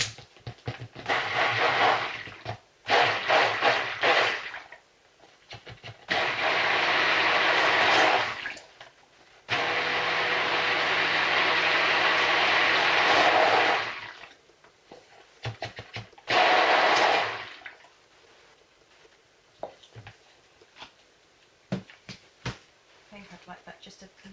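Titanium dioxide dispersed in distilled water being quickly mixed into cold process soap batter with a stick blender, several loud steady whirring bursts of a few seconds each, separated by quiet gaps, with a person talking in between.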